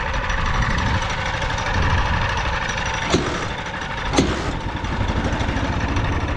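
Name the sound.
homemade motorcycle engine starting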